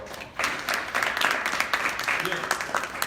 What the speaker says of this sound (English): let's give Alex another round of applause